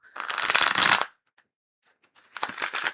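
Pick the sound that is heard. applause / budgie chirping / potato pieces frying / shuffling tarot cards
shuffling tarot cards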